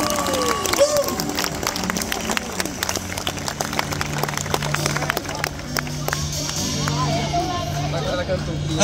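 Applause and cheering fill a church-style gathering at a concert in Poço Verde, Sergipe, a sustained crowd sound with scattered claps and voices mixed through it.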